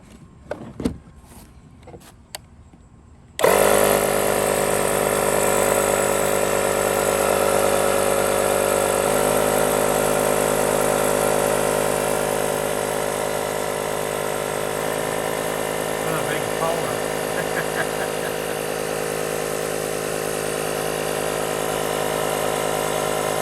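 A Craftsman electric pump runs steadily after a short start, inflating a BMX bicycle tire from about 3 to 60 psi with a loud, constant mechanical drone whose pitch shifts slightly as pressure builds.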